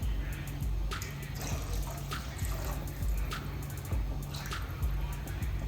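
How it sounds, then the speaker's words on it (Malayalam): Water is poured into a cooking pot of eggplant curry, a steady trickling splash with small drips over a constant low hum, moderately loud, with no voices. "കുറേ കൂടി വെള്ളം ഒഴിക്കാം."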